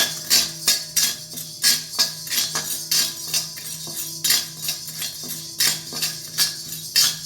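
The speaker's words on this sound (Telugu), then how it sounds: "ఫస్ట్ పచ్చెనగపప్పు కొంచెం లేట్గా వేగుతాయి కాబట్టి పచ్చెనగపప్పు సిమ్లోనే పెట్టుకొని వేయించుకుందాం మనం." Dry chana dal roasting on low flame in an iron pan, stirred with a metal spoon that scrapes and clinks against the pan in a steady, repeated rhythm. The sound is close and moderately loud, with no talking.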